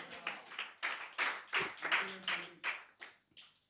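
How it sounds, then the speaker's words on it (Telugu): A church congregation claps in rhythm during a sermon, with a series of sharp, evenly spaced claps at moderate distance and faint background voices. "చప్పట్లు కొడదాం."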